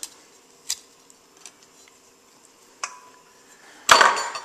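A knife works through avocados on a board, halving them and prying out the seeds, heard as a few scattered sharp taps and knocks followed by a louder clattering thud at the end.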